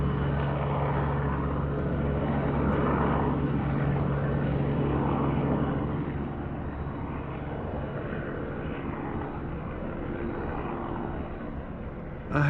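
Helicopter flying overhead with two hoops suspended below it on cables, a steady loud rotor and engine drone that holds for the whole stretch and eases slightly partway through, with no talking.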